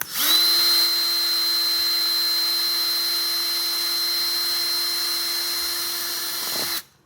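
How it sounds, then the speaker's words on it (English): A power drill whirs continuously at a steady high pitch for several seconds, close and loud, then winds down and stops. "Gonna go ahead and drill in."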